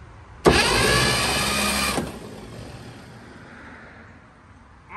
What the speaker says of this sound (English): It seems like that starter had enough ump to roll it past the spot where it was catching